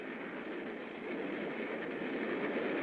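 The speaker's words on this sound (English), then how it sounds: "That's a real train with people on it." A train passing on railroad tracks, a steady broad rumble and rush that grows slightly louder partway through, with no voices.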